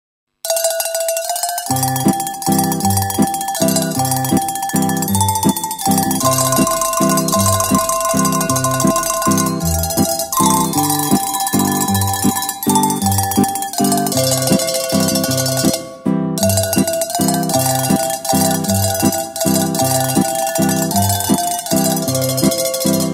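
A bright cowbell pattern from a Yamaha Genos keyboard plays continuously, loud and rhythmic, layered over a full instrumental groove.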